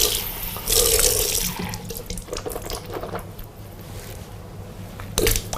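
Tap water runs into a sink during ablution mouth rinsing, with a loud splashing gush at first, then softer trickling and dripping, and another brief splash near the end.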